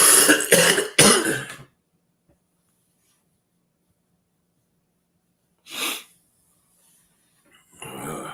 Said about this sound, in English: Man, this cough is killing me.